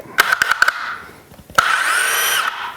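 A DeWalt rotary hammer with a 1/4-inch bit drills into cement, revving in a few short bursts, then running steadily with a high whine for about a second before stopping, close and loud.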